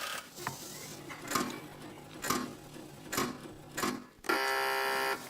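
A quiz show buzzer on a television news panel show cuts in with a sharp, steady electronic tone near the end, after several soft knocks and taps.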